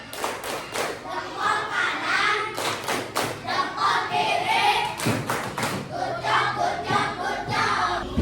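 Classroom of young pupils doing a rhythmic clapping chant of praise, a run of sharp claps and thuds mixed with children's voices chanting, loud and close throughout.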